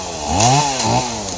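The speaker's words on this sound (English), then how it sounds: "got the little chainsaw out because the big one's down at the shop" A small chainsaw cutting branches during road clearing at an off-grid build site revs loudly and close, rising and falling in short bursts with no talk.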